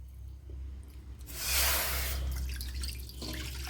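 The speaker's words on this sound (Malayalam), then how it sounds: "1 ലിറ്റർ വെള്ളമാണ് ഒഴിച്ചു കൊടുത്തിരിക്കുന്നത്" One litre of water poured into a pot for instant vegetable noodles, a brief rushing splash that swells and then tapers off, close and alone.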